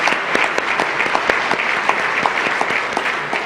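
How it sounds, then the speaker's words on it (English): An audience at an engineering awards ceremony applauds, with sustained, dense clapping from a large crowd, loud and continuous with a few sharper individual claps standing out. "So let's give them applause."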